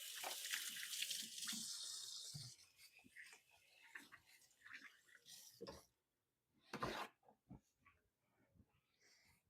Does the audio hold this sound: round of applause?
no